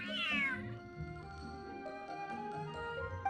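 A cat in the Genshin Impact video game gives one clear, rising meow, over steady game background music with sustained tones.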